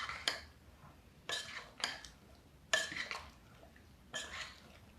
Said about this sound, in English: Just kind of fold everything together